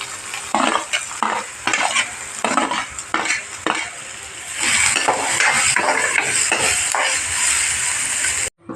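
Sautéed onion being stirred into potato for prawn cutlets, with a spoon scraping and knocking against the pan in bursts over a soft sizzle, close and fairly loud.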